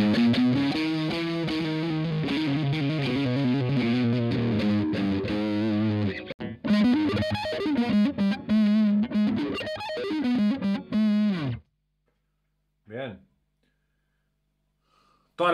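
An electric guitar runs through a Boss MD-2 Mega Distortion pedal with the gain fully up, giving loud sustained distorted chords and bends that cut off suddenly, followed by silence and a brief faint sound.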